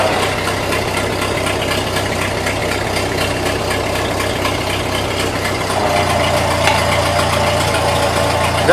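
A 1941 Ford 9N tractor engine idles under load while its PTO turns a pump, a loud, steady low rumble that runs without a break and shifts slightly in tone partway through.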